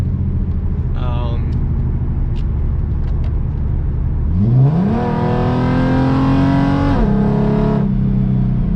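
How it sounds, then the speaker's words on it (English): A 4.0-litre V6 Ford Mustang engine hums steadily from inside the cabin, then revs up into a rising exhaust drone that holds and drops back, muffled and moderately loud. "So there's a little exhaust with the windows up."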